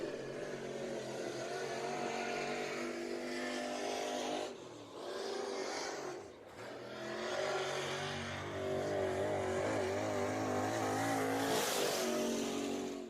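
Race car engines roar continuously at Deep South Speedway during a heat race, loud and sustained with revving rises and passes, a brief dip midway, and no talk.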